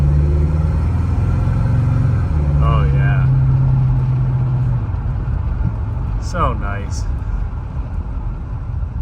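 A low-compression Ford 390 V8 in a Ford LTD with an FMX Cruise-O-Matic transmission rumbles steadily at close range, a deep continuous drone with a brief rise in tone partway through, while a person speaks briefly over it.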